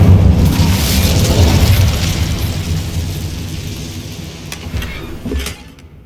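A loud, deep booming blast from the Incendio fire spell in Hogwarts Legacy rolls out and slowly fades, with a few sharp crackles near the end.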